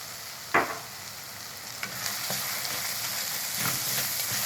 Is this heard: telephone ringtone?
no